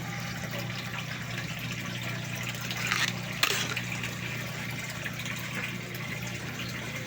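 Water flows through a hydroponic NFT growing system. It makes a faint, steady trickle over a low constant hum, with a brief louder splash midway.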